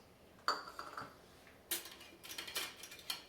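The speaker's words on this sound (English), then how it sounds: "I am going to use a rice paddle to mix this together" A rice paddle works buttermilk biscuit dough in a bowl, producing soft scrapes and light knocks against the bowl in two bursts, close and quiet, with no talking.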